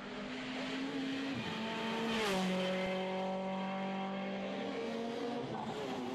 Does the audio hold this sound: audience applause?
no